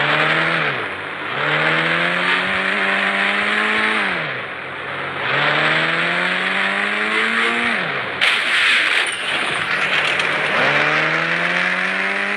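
Suzuki Swift cars racing, engines climbing through gears in loud, repeated revving sweeps, each rising pitch cut by a drop as the driver shifts, with a brief harsh tire squeal near the end.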